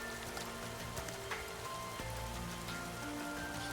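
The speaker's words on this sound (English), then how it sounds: "Only the sound of rain remains in the back alley." Rain falls steadily in a back alley in a Resident Evil collab video game, a constant wash of droplets hitting hard surfaces with faint tonal game sounds layered underneath.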